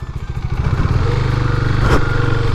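A KTM Duke 390 motorcycle idles and putters close by as it is moved, a loud, steady pulsing engine beat with a brief clatter and scrape partway through.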